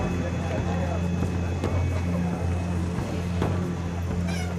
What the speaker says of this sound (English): with the night comes the sound of motorbikes as the militias ride into town